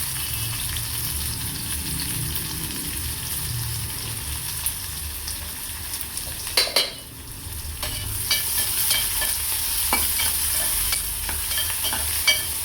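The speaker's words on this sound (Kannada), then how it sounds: "ಹಸಿಮೆಣಸು ಸ್ವಲ್ಪ ಚೆನ್ನಾಗಿ ಫ್ರೈ ಆದಮೇಲೆ ಇದಕ್ಕೆ ನಾವು ಹೆಚ್ಚಿಟ್ಕೊಂಡಿರುವಂತಹ ಈರುಳ್ಳಿ ಹಾಕ್ತಾಯಿದ್ದೀನಿ" Chopped onions frying in a pan with green chillies for a village-style horse gram sambar, a steady close sizzle with stirring scrapes and a brief clatter midway, no voices.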